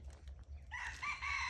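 Red junglefowl rooster crowing in Thai hill countryside, a single short crow at middle distance, fairly faint over a low steady hum, with no one speaking.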